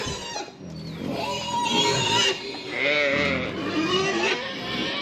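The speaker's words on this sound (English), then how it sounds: "Here's our sheep." Several close, wavering bleats from sheep, one call following another with short gaps, loud and distinct.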